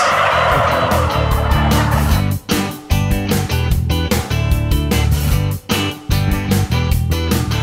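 Many turkeys on a turkey farm gobble in loud, dense, overlapping bursts that run continuously. The sound is close and fills the whole clip.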